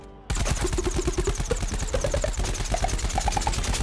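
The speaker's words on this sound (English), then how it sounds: "Helicopter! Helicopter!" A helicopter in a video game thumps with rapid, steady rotor beats that start abruptly and stay loud and close, mixed with game tones.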